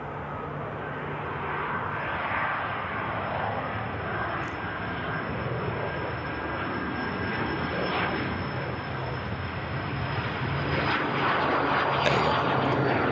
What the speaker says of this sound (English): Lufthansa going to be touching down.